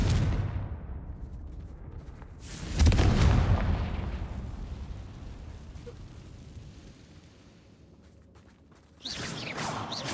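A Confringo blasting spell cast in the video game Hogwarts Legacy: a loud, broad explosive burst near the three-second mark that fades away, then a second sharp blast at the end, with quiet ambience between.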